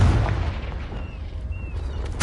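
Confringo blasting spell cast in the Hogwarts Legacy video game, a loud rumbling burst that rolls on as a low boom for a couple of seconds before a final sharp crack.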